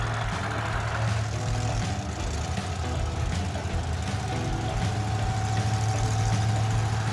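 Engine of the Roadkill project car Stubby Bob running steadily under load while driving, a loud continuous mid-pitched drone with a sustained low hum and no talk.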